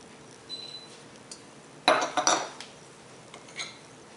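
Chopped whole garlic being stirred into a buttery marinade in a bowl for Portuguese-style piri piri chicken, heard as a few quiet clinks and scrapes of a utensil against the bowl, with one brief louder cluster.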